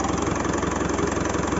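A misfiring Mitsubishi Montero engine idles loudly and close, its low rumble carrying an uneven, lumpy pulsing rhythm.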